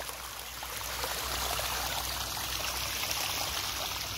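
Water flows out of a spring in a steady, soft gurgling stream, continuous and fairly close, with no voices standing out.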